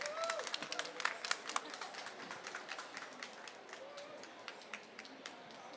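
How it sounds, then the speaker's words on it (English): A small audience at an energy-sector workforce panel gives a thin, scattered round of applause, individual claps popping sharply and sparsely at moderate distance, tapering off as a few murmurs and light movement continue. "join us here with a round of applause of the audience"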